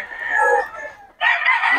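Roosters at a Red Kelso gamefowl market in Bocaue cluck and crow close by, one call, a short gap, then another strong call, with people talking nearby.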